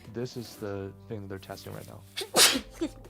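A person speaks, then lets out one sharp, loud sneeze near the end, followed by a little more muffled voice.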